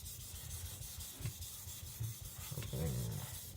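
A Tojiro Shirogami nakiri knife drawn across a whetstone in soft, steady rubbing strokes, quiet and close, with a few slightly stronger passes and no voices.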